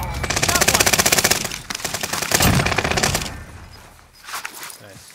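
Video game gunfire rattles in loud, rapid automatic bursts, a long sustained volley followed by shorter strings of shots, with a voice speaking over the action.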